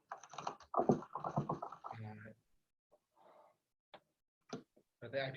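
Scattered, faint clicks of typing on a computer keyboard come through in a quiet gap after a person speaks, with more talk resuming at the end.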